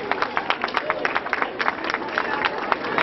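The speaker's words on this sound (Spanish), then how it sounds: "Un aplauso para Marco Mayo." Audience clapping at a school writing-contest award ceremony, a dense run of quick overlapping claps from a crowd of people, steady and moderately loud throughout.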